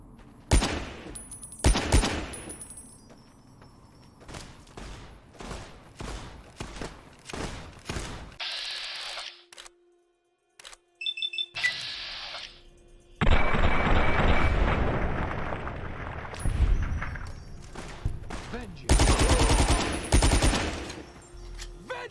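Folsom Carbine fire from a Fallout: New Vegas mod, loud separate shots and quick bursts with booming tails and pauses between, alongside other in-game sounds and effects.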